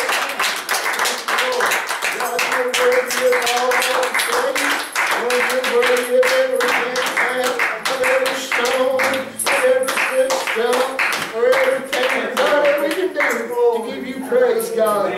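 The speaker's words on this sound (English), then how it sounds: "Can we give the good Lord a hand clap?" A Pentecostal congregation at a Wednesday night church service claps hands in a steady rhythmic beat, sustained and fairly loud, with voices and singing over it throughout.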